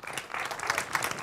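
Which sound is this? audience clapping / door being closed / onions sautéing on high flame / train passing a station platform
audience clapping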